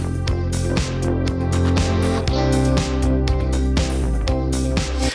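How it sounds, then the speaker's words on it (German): Music playback with drums and bass where the mix pumps rhythmically, ducking in level on each bass drum hit through sidechain compression, loud and continuous. "Und der komprimiert jetzt das Signal, immer wenn die Bassdrum spielt."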